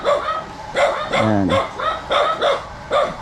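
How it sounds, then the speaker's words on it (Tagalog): A dog barks repeatedly nearby, about six sharp barks in quick succession, with a brief word spoken over them. "So maingay ang aso."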